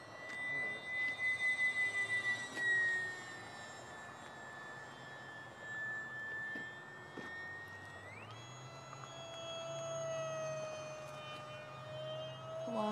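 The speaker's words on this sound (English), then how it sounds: "Do a flyby, Chris." Radio-controlled model airplane making a flyby outdoors, its steady high electric whine rising sharply in pitch as it passes, then dropping lower and continuing at moderate distance, with no talking.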